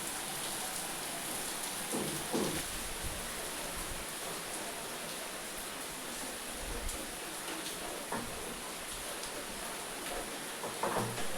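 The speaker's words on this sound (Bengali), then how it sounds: "দেখুন বাইরে কত বৃষ্টি পড়ছে কখনো হালকা কখনো ভারী পড়তেই আছে বৃষ্টি" Steady rain pours down outdoors, a continuous hiss that swells and eases slightly, with a few soft low thuds underneath.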